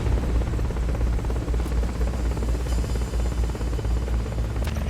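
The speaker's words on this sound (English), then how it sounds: "Forget about the chopper for now." A Hind attack helicopter in the video game Metal Gear Solid: Peace Walker, a loud, continuous low rotor thrum with rapid rhythmic blade chop, close and steady throughout with no talk.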